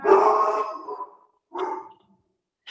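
A dog barks twice up close, a long, loud yelping bark followed after a pause by a shorter one, with a faint hint of a third at the very end and quiet between.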